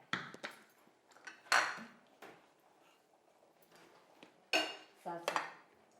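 Metal pans and utensils clatter and clink in several sharp bursts as a pan is readied for tempering with oil and mustard seeds, with quieter handling noises between them and no talking.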